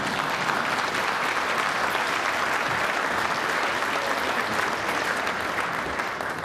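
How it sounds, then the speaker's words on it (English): A large audience applauds steadily during a governor's State of the State address in Montana, a dense, even wash of clapping filling the whole stretch without pause. "you can applaud for the American dream"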